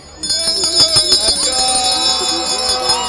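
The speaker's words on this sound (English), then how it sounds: "cue the bells" Several handbells ring together at a high school football game, a bright, continuous jangle, loud and close, with overlapping clangs throughout.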